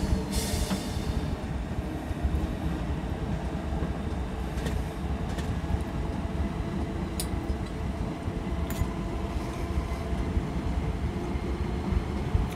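A train rumbles steadily along in Train Simulator 2018, with a continuous low rolling drone and occasional faint clicks and clanks over the track, without talk.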